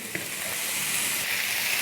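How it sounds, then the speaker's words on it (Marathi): Chopped spinach and garlic stir-frying in a pan over high heat make a loud, dense, continuous hiss of sizzling, steady throughout with one light clink at the start and no talking. "आता एक 2 ते 3 मिनिटं आपल्याला याला स्टर फ्राय करून घ्यायचं आहे, या पालकला मोठ्या आचेवर"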